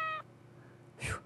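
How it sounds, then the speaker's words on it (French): Two short cat meows in the video game Corpse Party: Blood Drive, the first a clear tonal cry and the second a brief rougher mew, separated by a quiet pause. "C'est juste un chat."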